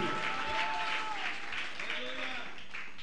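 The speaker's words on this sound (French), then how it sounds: "Aplauso forte para Cristo. Applaudis pour Christ nous à soir." Sustained applause from a church congregation in Bonaire fills the whole stretch, steady and dense, with a voice calling out over the clapping.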